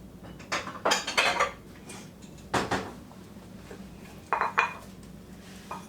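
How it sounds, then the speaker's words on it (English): Taco seasoning sauce mixed in a small dish, with a few bursts of utensil clinks and clattering against the dish, close by and separated by short pauses. "I'm going to get me a little dish and mix this together"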